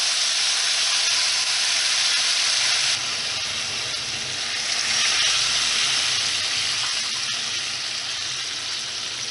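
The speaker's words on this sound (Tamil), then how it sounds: "புளி கரைசலை ஊற்றிக்கலாம்" Hot brinjal kulambu hissing and sizzling loudly and steadily as tamarind water goes into the pan, a dense close bubbling fizz with no voices.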